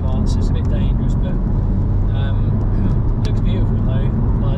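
A facelifted Honda Civic Type R FK8 accelerates on a damp, dewy road, its engine a loud, steady drone with a dense low rumble that holds throughout.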